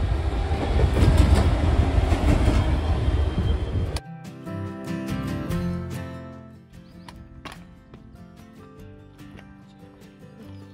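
A train runs on the railway track coming off a viaduct, first as a loud broadband roar with rumble, then giving way to clattering, rhythmic rail clicks that fade over the following seconds.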